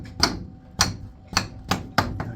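A hammer strikes metal on a homestead farm where work is being done on Ferguson tractors and trailers. There are six sharp, ringing blows at a steady, slightly quickening rhythm, close and loud, with no talking.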